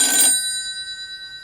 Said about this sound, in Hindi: लो आ गया ना फोन उसका।